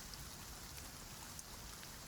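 Rain pattering steadily on a greenhouse glass roof overhead, a soft continuous hiss with faint scattered drop ticks, quiet and close, no voices.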